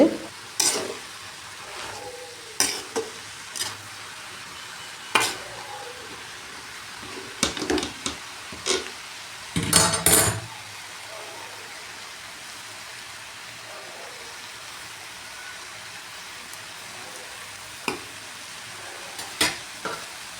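Stir-fried vegetable poriyal with grated coconut being stirred in a pan, with scattered scraping and clinking strokes of the spoon at irregular intervals over a soft, steady background hiss.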